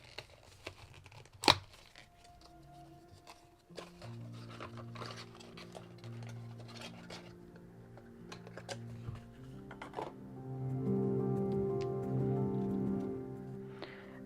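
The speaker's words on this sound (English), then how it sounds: "Oops, I just ripped the box." A cardboard box of washi tapes is ripped open, with a sharp tear near the start followed by quiet crinkling and handling. Later comes a louder, steady rustling.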